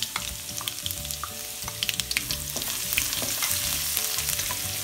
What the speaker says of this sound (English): We'll add our garlic. And we'll saute our garlic until it's golden brown.